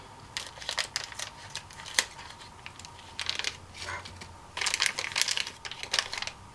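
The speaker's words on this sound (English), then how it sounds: "So now we need to get these, some scissors to cut it open." Scissors cut open plastic packaging holding brass upgrade parts for a Traxxas TRX-4 RC truck, giving a close, irregular run of crisp snips, clicks and plastic crinkling with short pauses in between.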